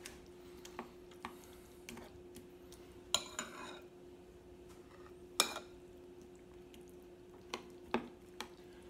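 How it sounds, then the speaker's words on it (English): A spoon clinks and scrapes now and then in a bowl while date-nut loaf batter is stirred, giving sparse, faint, separate taps over a quiet background. "Stir that all up."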